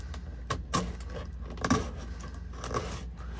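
Sharp knife cutting through an ACCU-Form plastic dash cover on a Chevy LUV, several short scraping, crackling slices in irregular rhythm, close and fairly quiet.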